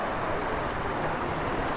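Ocean waves wash steadily onto Llarga Beach in Spain, a dense, even hiss of surf mixed with some wind buffeting on the microphone, with no voices.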